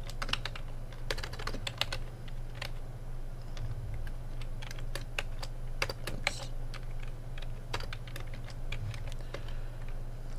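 Irregular, rapid clicking keystrokes on a computer keyboard during 6502 assembly language programming, close and fairly quiet over a steady low hum, with no voices.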